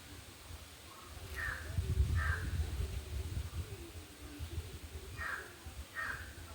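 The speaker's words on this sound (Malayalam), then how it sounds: "അങ്ങ് മരത്തിലൊരു കാക്ക ഇരിപ്പുണ്ട്." A crow caws from a tree on a windy day, giving four harsh calls in two spaced pairs at moderate distance over a low, steady wind rumble.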